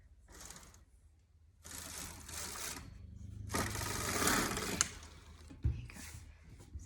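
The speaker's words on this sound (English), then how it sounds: "if you run the carriage across the knitting machine" A Brother KH836 knitting machine carriage is run across the needle bed to knit a row, giving mechanical whirring, clicking passes in several bursts over a low hum, close and moderately loud, with no talk.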